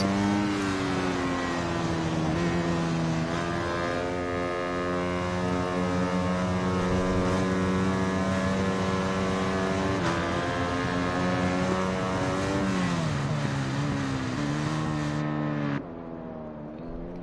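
Onboard engine of a racing motorcycle on the Tsukuba circuit, a loud sustained high-revving whine with strong harmonics that shifts pitch through gear changes before dropping off near the end.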